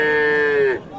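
A Friesian cow lets out a single loud, close moo at a busy Friday cattle market in Ambari, Dinajpur, a sustained tonal call that slides down and breaks off after under a second.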